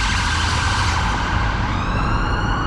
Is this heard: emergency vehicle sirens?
yes